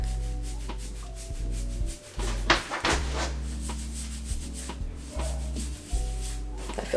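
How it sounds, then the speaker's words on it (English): Fingers rub a cold, thick hair product into the scalp, giving steady close-up soft friction strokes over a low background hum, with a few louder rubbing passes and no talking. "I'm just gonna go with my fingers. Like, I'm not scratching it or anything like that. I'm just basically rubbing it in."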